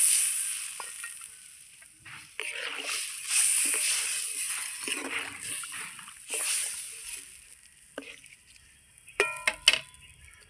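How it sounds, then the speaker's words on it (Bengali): Water from a rinsed bowl is poured into a mustard hilsa curry in the pan, a close splashing gush with soft sizzling, followed by a few quick clinks of the bowl. "বাটি ধুয়ে দিয়ে দিচ্ছি সঙ্গে জল।"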